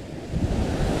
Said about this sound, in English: The waves are bringing up foam.